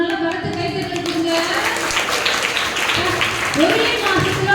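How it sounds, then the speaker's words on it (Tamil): A classroom audience claps for a student, with steady applause running throughout under an adult's speech and some children's voices. "உங்களுக்கு நல்ல பலத்தை கைத்தட்டல் கொடுங்க"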